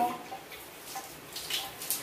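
Shower water spraying steadily at moderate volume, a soft continuous hiss with brief splashy surges as it hits skin and the floor.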